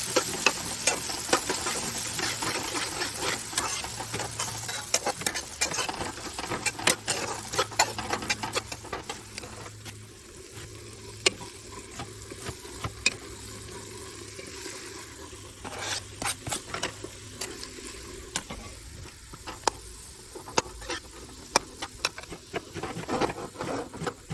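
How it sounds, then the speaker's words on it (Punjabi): Dry garlic and then green garlic roast in a pan on a new stove, a dense crackling sizzle with rapid popping and spatula scrapes, loud at first and then settling to a lower, steady fry, with no talking. "ਪਹਿਲਾਂ ਸੁੱਕਾ ਲਸਣ ਭੁੰਨਿਆ ਸੀ ਜੀ ਹੁਣ ਹਰਾ ਲਸਣ ਪਾਇਆ"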